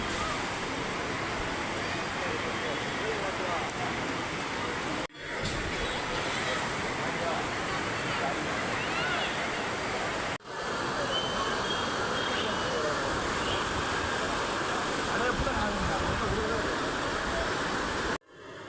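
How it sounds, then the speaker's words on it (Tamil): A constant, dense roar of falling water from the Courtallam waterfalls in Tenkasi, India, fills the scene, steady and loud throughout, broken only by a couple of abrupt cuts. "அருவி சத்தம் உங்களுக்கு கேட்குதா இதில்"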